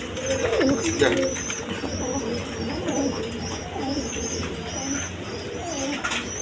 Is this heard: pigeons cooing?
yes